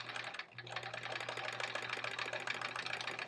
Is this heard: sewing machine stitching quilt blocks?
yes